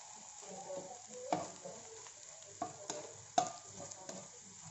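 Salted fish fried rice is stirred in a sizzling pan, with a few distinct scraping strokes of the utensil over a soft, steady frying hiss, fairly quiet.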